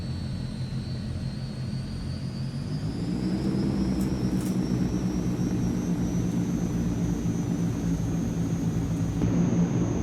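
A steady drone of a Transall C-160's turboprop engines in Microsoft Flight Simulator hums throughout, a low rumble with a high whine on top that rises slightly as the power increases.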